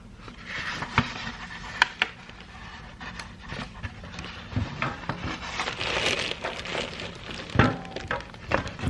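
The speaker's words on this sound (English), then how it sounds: "So this is ½ kilogram of soya wax into the bowl" Flakes of soya wax are tipped into a large glass bowl, making a scattered rustling, crunching patter with sharper clinks on the glass, close and irregular.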